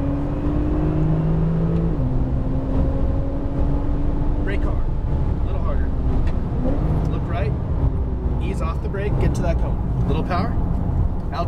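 A Porsche 911 Turbo accelerates at full throttle on a track, its steady engine roar and rising gear tones filling the cabin, with a voice calling out over the drive.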